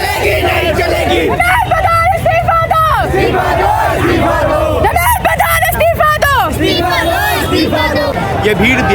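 A large crowd of students at a Jantar Mantar protest chants and shouts together in loud rhythmic waves, close and dense, with babble and cries running continuously throughout.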